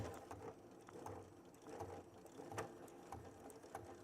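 A Baby Lock sewing machine stitching fabric back and forth for a back stitch, giving a faint, quick mechanical chatter in short rhythmic bursts.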